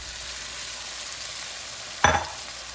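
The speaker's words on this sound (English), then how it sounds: "we put in our salmon." Salmon laid into a hot pan of oil flavored with rosemary and thyme sizzles steadily, with one sharp, brief clatter and splash partway through as a piece goes in; no one speaks.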